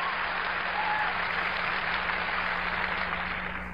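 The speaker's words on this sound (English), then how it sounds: "I don't know why you're clapping." An audience at a sermon for young people breaks into sustained applause, a thick wash of many hands clapping at steady strength, then thinning slightly at the end.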